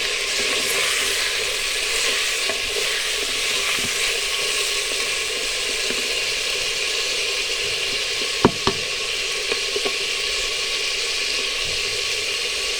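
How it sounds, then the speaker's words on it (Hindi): Mutton sizzles steadily as it fries in hot oil in a cooking pot over a lowered flame, a continuous crackling hiss with a few soft knocks of stirring toward the end. "उसी तरह हम इसी ऑयल में हम अपना गोश्त शामिल कर देंगे।"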